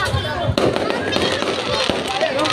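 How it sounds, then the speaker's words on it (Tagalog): New Year fireworks bursting in a Philippine neighbourhood, with sharp cracks and pops over a steady crackling din while people talk and exclaim nearby. "May putukan na bago ko ikat yung video."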